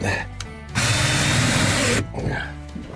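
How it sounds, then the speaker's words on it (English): A power drill drives screws into the boards of a temporary porch on a 200-year-old farmhouse, one loud steady burst of about a second, with people talking before and after. "This part's getting a few extra screws, since this is where everybody's gonna be standing all the time."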